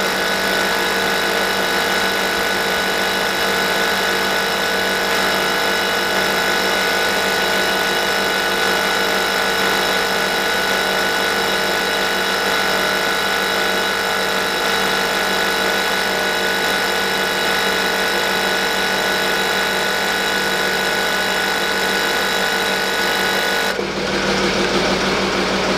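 The air suspension compressor on a Land Rover Discovery 3 with a compressor fault drones steadily with a tonal whine, then its valve releases air in a brief hiss at the end.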